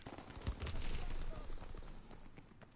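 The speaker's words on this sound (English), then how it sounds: "he's just on the mounted MG." Mounted MG fire in Call of Duty WWII, a dense rapid stream of gunshots forming one sustained burst over a murky online battle mix, with a voice talking across part of it.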